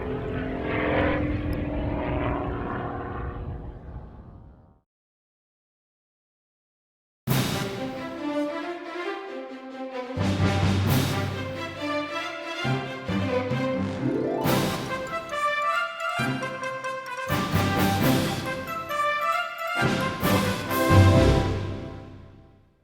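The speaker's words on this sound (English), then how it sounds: "the raw sounds of Gary Ward and his MX-2" A Gary Ward MX-2 aerobatic propeller plane performs at an air show, its engine fading out, then returning as loud surging passes with rising and falling pitch and bursts of full-throttle roar.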